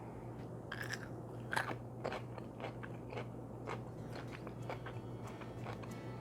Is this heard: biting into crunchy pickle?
yes